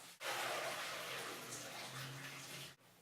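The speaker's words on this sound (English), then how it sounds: "then you just have to strain the water off." Boiled red potatoes drained in the kitchen, a steady close rush of hot water pouring off them into a sink for nearly three seconds, starting and stopping abruptly.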